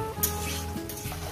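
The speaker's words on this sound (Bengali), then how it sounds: "এটা ভেজে নেবেন নতুনটাকে" Meat sizzles and crackles steadily in a hot pan while being fried for mutton curry, a close, continuous frying sound with no talk.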